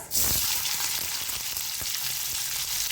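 Cumin seeds and finely chopped onion fry in hot refined oil for a vegetarian tricolour pulao, giving a loud, steady sizzle with soft stirring scrapes throughout and no talk.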